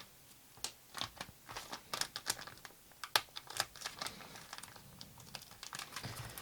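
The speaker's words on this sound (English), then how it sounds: "That's all heat sealed, so I will cut it open." Heat-sealed plastic packaging of an electronics kit being cut open, giving a run of quiet, crisp clicks, snips and crinkles spread unevenly over several seconds, close and fairly soft, with no talking.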